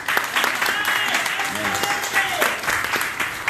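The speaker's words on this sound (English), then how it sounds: "Give Mr. Lichtman a round of applause." A crowd at a community celebration gives a round of applause for an honoree, a continuous wash of many hands clapping at close range, with a few voices faintly mixed in.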